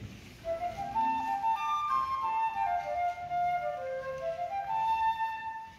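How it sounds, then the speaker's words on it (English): A short, flowing flute melody from the opening of the Kirkpatrick Fanfare is played solo, a single sustained line rising and falling at moderate loudness without talk. "You heard this little melody in the flute that sounds like this in the very beginning."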